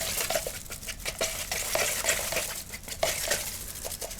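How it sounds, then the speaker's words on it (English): A palette knife stirs gesso, giving a steady run of close, wet scraping and sloshing with repeated soft clicks as the blade works through the thick paint, without talk. "we're just going to use this palette knife and just kind of stir it all really, really well"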